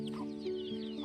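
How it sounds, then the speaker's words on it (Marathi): Chickens and young chicks cluck softly outdoors in the early morning, a steady low murmur of short calls with no voices. "सकाळ झालं की हे पिल्ले आणि कोंबड्या बाहेर खातच राहतो"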